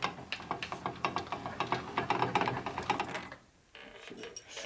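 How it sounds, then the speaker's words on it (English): Ratchet wrench tightening the axle on a 1957 Harley panhead drag bike, a close run of quick, even clicks that thin out before a short pause and a few final clicks. "I tighten that damn axle down,"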